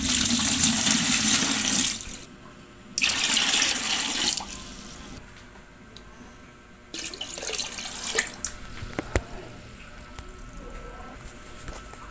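Tap water pours into a clean bucket in loud rushing bursts that stop and restart, then gives way to quieter splashing and handling noises.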